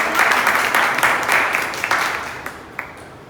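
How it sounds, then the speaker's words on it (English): Audience applause at a Toastmasters club meeting welcoming a new club member, a steady wash of clapping that fades away over about three seconds, with a few last claps near the end. "A warm round of applause."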